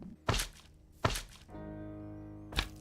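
Crafting at a tool forge in modded Minecraft: three sharp, heavy thunks spaced about a second apart, followed by a sustained, even metallic hum that fills the gap before the final strike.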